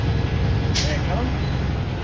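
A sharp, brief hiss of air bursting from a truck's air brake system as it purges, heard once over a low idling engine during a class A CDL in-cab inspection, with talk around it.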